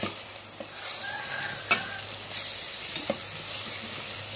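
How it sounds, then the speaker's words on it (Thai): Pork belly sizzles as it is stir-fried with curry paste and coconut cream, giving a steady, close frying hiss broken by a few sharp scrapes of the spatula against the pan. "ผัดเสร็จเรานำหมู3ชั้นที่เราหั่นไว้มาผัดกับพริกแกงค่ะ"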